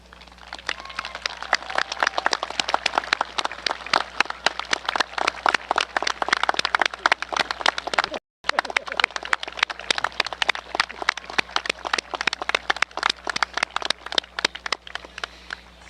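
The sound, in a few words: graduation crowd applauding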